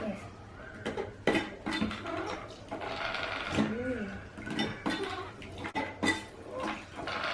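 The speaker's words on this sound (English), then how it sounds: "Then we are going to put a bottle and pump it like this." A bottle is pumped on a Vinator wine and beer bottle washer and sanitizer, giving rhythmic plastic clicks, glassy knocks and small splashes close by.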